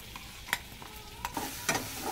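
Chilies roasting in a pan with ginger-garlic paste for veg chili, a steady close sizzle broken by three sharp stirring scrapes, with no voices.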